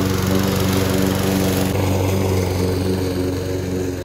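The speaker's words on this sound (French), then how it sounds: "je m'en vais essayer ma tondeuse" A lawn mower engine runs loud and close throughout, a steady buzzing drone with no voices.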